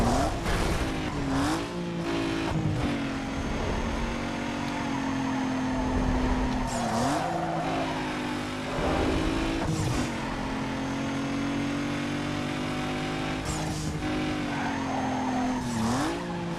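Remote control F1 car in Stunt Race FX repeatedly skidding, tire squeals recurring every few seconds over a constant loud engine drone and game music.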